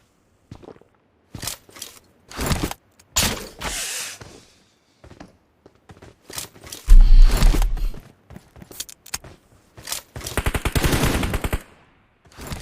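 Repeated bursts of rapid video game gunfire, some short volleys and one long sustained automatic stretch, with mechanical clicks and scuffling between them.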